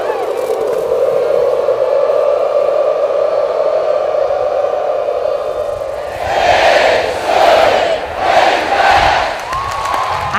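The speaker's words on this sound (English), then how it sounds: "I love cheering in front of the fans and calling the Hogs" Stadium crowd at a University of Arkansas game doing the Hog call cheer, a sustained massed roar that swells into several rhythmic chanted bursts near the end.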